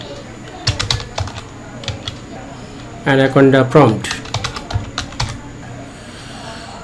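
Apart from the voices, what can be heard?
typing on a computer keyboard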